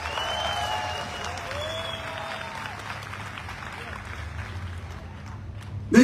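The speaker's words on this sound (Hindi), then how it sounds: "हमारे AWPL के फाइटर जो पहली बार आए उनके लिए एक बार जोरदार ताली बजाकर उनको स्वागत करें" An audience at an AWPL meeting applauds to welcome first-time attendees, a continuous moderate clapping across the room with faint voices mixed in and a short louder burst at the end.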